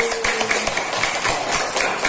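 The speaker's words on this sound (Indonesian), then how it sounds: "Tepuk tangan untuk Mas Zaini" A class claps together for a classmate in a lesson. The claps come as quick, steady, evenly spaced taps, fairly loud and near, for a couple of seconds.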